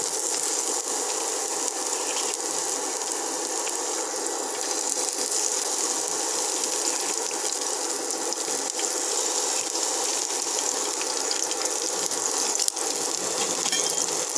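Onions frying in hot refined oil for a spiced roll stuffing, a steady close sizzle and hiss running unbroken throughout, with faint clicks and no talking.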